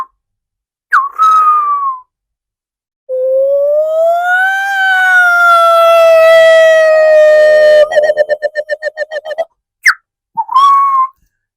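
A mimicry artist whistles a bird call that sounds like an ambulance siren: loud, clear rising and sustained wails, then a rapid pulsing trill and short chirps, alone with no other sound.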